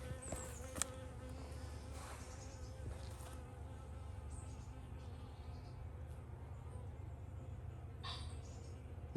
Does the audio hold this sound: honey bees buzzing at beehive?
yes